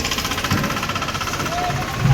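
A tractor engine runs steadily at a busy onion market, a continuous mid-pitched rumble with slight knocking throughout, fairly close, with brief thumps and faint background voices.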